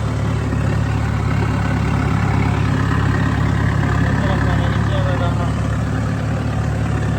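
A Sonalika tractor engine idles steadily and loudly throughout, a low continuous rumble close by with faint voices beneath it.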